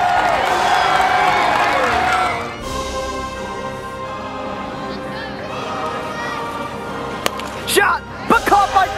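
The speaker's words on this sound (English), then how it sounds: "this crowd is really getting into it now" Crowd noise swells with cheering at an indoor stadium wiffle ball game, loud and dense for the first couple of seconds, then settling into a steady murmur with scattered shouts and claps; a commentator talks over it.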